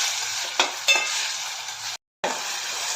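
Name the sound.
tomatoes being sautéed in a pan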